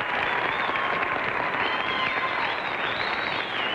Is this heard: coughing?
no